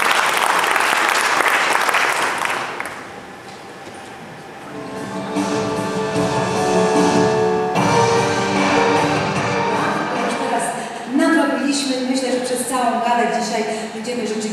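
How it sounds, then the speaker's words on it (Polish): Loud applause from the audience at a sports gala in Olsztyn rings out for the first few seconds, then gives way to music and a speaking voice while scattered clapping continues underneath and swells again briefly. "Wielkie brawa!"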